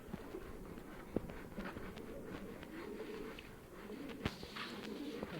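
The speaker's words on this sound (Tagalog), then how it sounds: "kalapati po, mga racing po yan, ilalaban po yan" Low, muffled cooing of racing pigeons in a quiet background, with a few faint taps and shuffles.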